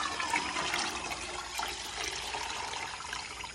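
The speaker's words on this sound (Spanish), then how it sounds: "Vamos a vertir la paila blanca para que veamos cómo el agua coge más materia orgánica" Dirty water from washing fruit pours out of a white pan in a steady, rushing splash that runs continuously, fairly close and without talk.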